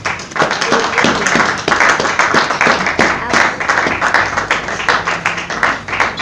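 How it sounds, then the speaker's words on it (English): A church congregation claps their hands together during a sermon, a loud sustained wash of many hands with voices faintly mixed in, continuing for several seconds. "Let us clap our hands for Jesus Christ."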